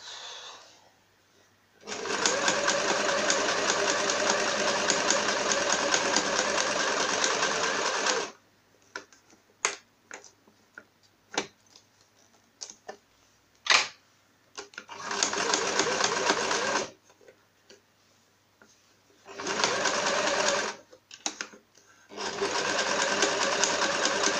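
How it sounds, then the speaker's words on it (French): A sewing machine stitches fabric for a zipped pouch in several loud, close bursts of rapid whirring, separated by quiet pauses filled with small clicks and handling noises. "Et on y va. On coud."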